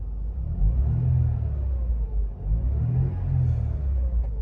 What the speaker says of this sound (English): I'll give it a quick rev for you.